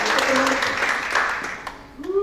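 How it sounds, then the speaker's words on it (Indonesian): A church congregation clapping hands during a sermon, a dense burst of clapping heard under a preacher's loud voice that fades out toward the end as the talking continues. "Tepuk tangan bagi Allah kita."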